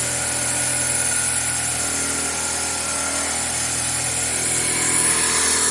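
A 2000 Toyota Celica GTS engine idles high at around 1200 RPM with a steady, even drone and an unbroken hum. It is loud and close, with no voices over it.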